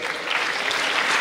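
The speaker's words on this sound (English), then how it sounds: "Clap कर दो भाई." An audience at a university orientation program breaks into dense, steady applause, a loud continuous wash of many hands clapping throughout the short stretch with no talking.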